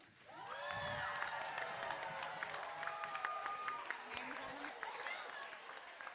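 A quiet, distant audience claps and cheers at a school community showcase event as attendees stand. The applause runs steadily for several seconds under excited voices and shouts.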